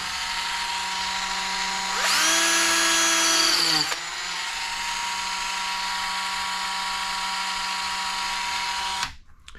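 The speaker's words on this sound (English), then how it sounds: "taking that sharp corner off, putting a tiny chamfer on there, and repeat this process" A small power tool whines steadily as it chamfers the sharp corner of an RC car differential part, rising into a louder, higher-pitched burst for about two seconds before settling back to a constant hum that stops abruptly.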